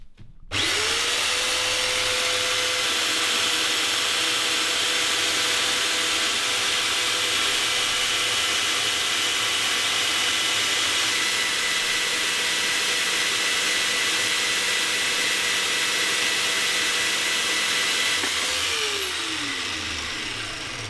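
Metal-cutting power saw cutting a workpiece at a miter angle for a motor stand: the motor spins up sharply, holds a loud steady high-pitched whine while cutting for about eighteen seconds, then winds down alone.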